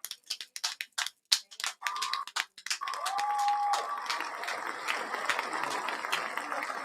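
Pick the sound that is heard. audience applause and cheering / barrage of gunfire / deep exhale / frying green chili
audience applause and cheering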